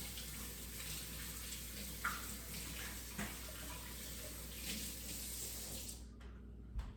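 A kitchen tap runs steadily while hands are washed under it, a faint even hiss of flowing water with small splashes, ending abruptly as the flow is shut off.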